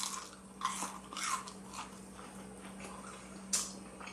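Crunchy homemade popcorn chicken, single-dipped white meat, bitten and chewed up close, with a few distinct crisp crunches spaced apart amid quieter chewing.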